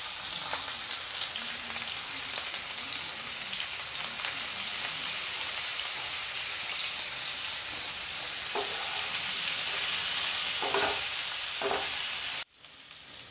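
Potatoes with turmeric fry on high flame in a pan, giving a loud, steady, close sizzle with a few stirring scrapes, before the hiss cuts off abruptly near the end.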